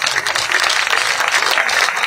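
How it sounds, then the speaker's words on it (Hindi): A crowd at a village political rally in Garhi Kesri, Ganaur, gives loud, dense applause, a thick, close wash of many hands clapping at once. "एक बार जोरदार तालियां हो जाए।"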